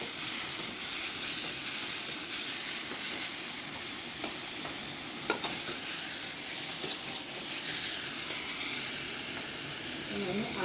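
A small tomato sizzling as it fries in a pan with softened onion, a steady loud hiss with faint stirring clicks throughout.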